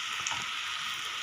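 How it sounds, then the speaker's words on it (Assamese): Banana flour balls sizzle in hot oil with a steady, even crackling hiss, close and fairly quiet, without any voices. "এয়া ৰঙাকৈ ভাজি ল'লোঁ"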